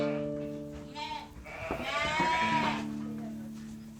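Sheep ewes bleating in a pen before shearing, several wavering bleats overlapping close by, one long loud cry in the middle, with a steady low machine hum underneath.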